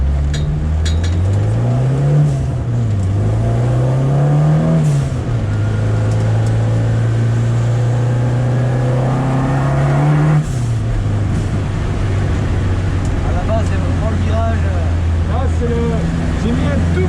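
Peugeot 205 T16 rally car with 250 hp driven on a track at Vaison: a loud in-cabin engine drone rising and falling through revs and gear changes, then holding a steady pitch.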